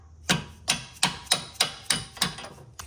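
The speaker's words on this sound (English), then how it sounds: "you should be able to hammer out this bolt" Seven evenly spaced sharp metal-on-metal hammer blows ring out, each with a bright clang, as a suspension bolt is driven out of a 1991-1996 Acura NSX, close by with no talking.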